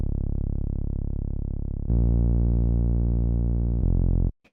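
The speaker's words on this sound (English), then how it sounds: "It's this bass. It's very simple. It just sounds like this." A buzzy, harmonically rich synth bass made of two saw waves holds sustained low notes, shifting pitch twice before cutting off abruptly, with no other sounds.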